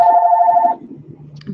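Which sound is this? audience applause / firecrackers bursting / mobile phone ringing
mobile phone ringing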